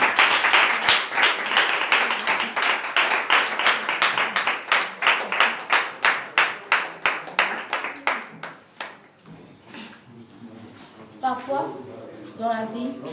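Applause at a deputy's visit to a children's foundation, loud rhythmic clapping in unison that fades out, then gives way to voices and cheering near the end.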